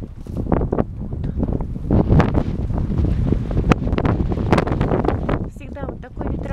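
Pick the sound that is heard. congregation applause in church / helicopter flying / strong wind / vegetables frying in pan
strong wind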